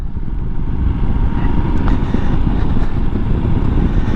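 A Royal Enfield Himalayan 411 motorcycle drones steadily while riding, its low engine rumble mixed with heavy wind buffeting at the microphone throughout.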